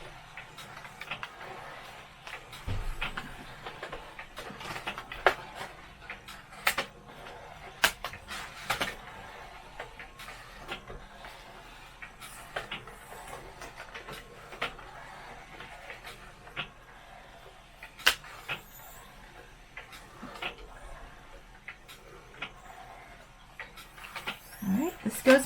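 Epson ES402 document scanner feeding postcards through, giving a faint run of quick clicks and ticks with soft mechanical whirring, and people talking over it now and then.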